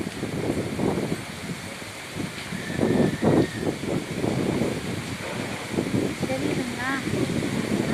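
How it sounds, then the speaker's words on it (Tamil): Strong, gusting storm wind roars across the microphone in steady rushes, with rain falling and a voice speaking over it. "காற்று எப்படி அடிக்குது பாருங்க"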